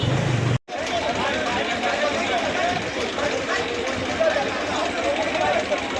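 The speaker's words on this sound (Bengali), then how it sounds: "ফাঁকা রোডের উপরে নৌকা চলতেছে" A boat motor drones steadily and close by on floodwater, with a low rumbling hum that barely changes, while faint voices murmur in the background.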